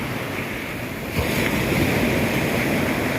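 Morning ocean waves break and wash onto Phayun Beach in Ban Chang, Rayong, Thailand, a constant roar of surf with wind buffeting the microphone and a fuller surge of water arriving partway through.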